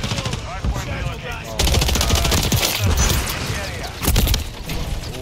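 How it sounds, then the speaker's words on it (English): Call of Duty gunfire rattles in loud, sustained automatic bursts with heavy thumps, dense and close throughout, while players talk over it. "I'm shooting at her."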